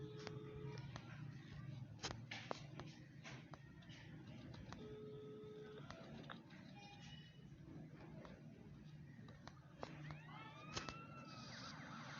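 An ambulance siren wails continuously through a busy, noisy Grand Theft Auto V game scene, with rising and falling tones over steady background rumble and scattered clicks.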